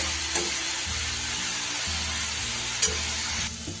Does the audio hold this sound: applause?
no